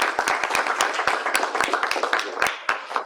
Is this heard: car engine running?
no